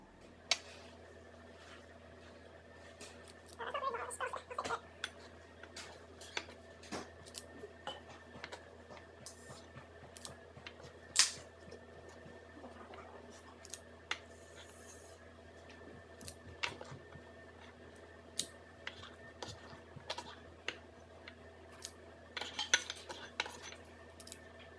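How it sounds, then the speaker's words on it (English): A metal scooper portions falafel mix into balls, producing faint, scattered clicks and soft scrapes over a quiet background hum. "so we're going to be using a scooper."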